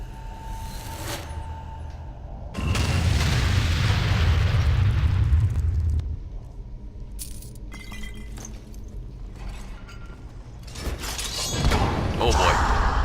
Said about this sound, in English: Should be able to detonate this lock.